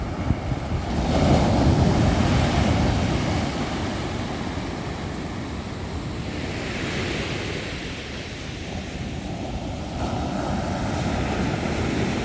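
Sea waves wash below the corniche at Moulay Bousselham beach on Morocco's northern coast, a steady broadband surf roar with wind buffeting the microphone, swelling slightly early on and holding continuous throughout with no voices.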